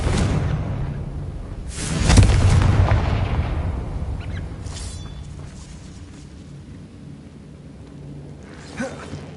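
Blasting-spell explosions in the video game Hogwarts Legacy: one deep, booming burst with a whooshing rush, then a long fading rumble and a faint later thud, without speech.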